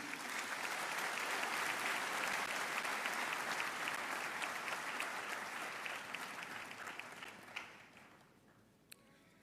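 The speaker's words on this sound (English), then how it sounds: "Shall we give a resounding applause to our past leaders?" A large audience at a university vice-chancellor's investiture ceremony breaks into sustained applause for past leaders, a broad roar of clapping from a hall that gradually thins and dies away.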